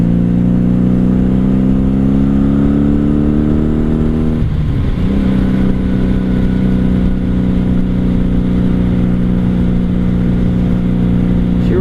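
A 1997 Honda Magna VF750C V4 motorcycle engine hums steadily and loud while riding, with a brief pitch drop from a shift or throttle change partway through before it settles into a smooth, continuous drone.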